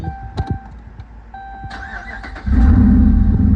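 A Dodge Ram 1500 pickup's gas engine cranks and fires at about the midpoint, then settles into a loud, steady rumbling idle, close by.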